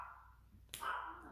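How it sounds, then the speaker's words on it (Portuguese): A dog barks once, a sharp close bark followed by a brief tonal whine, with no talk over it. "Ai, Luna, Senhor, dai-me alma, ela não para de latir, Jesus"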